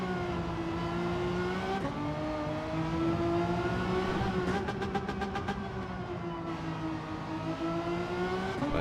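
Race car engine at the Nürburgring in a Gran Turismo racing game, a sustained droning engine note that rises and shifts through gear changes, loud and continuous with no talk.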